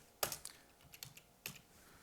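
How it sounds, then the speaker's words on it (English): Keystrokes on a computer keyboard as an Excel skewness formula is typed: a handful of crisp, separate clicks in an irregular rhythm, close and fairly quiet, with no voices. "So we start typing the equal sign, skew, we open a bracket"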